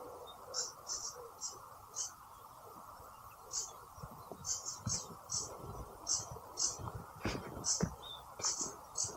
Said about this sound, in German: Hier im Baum irgendwo sitzen Jungvögel, man hört sie.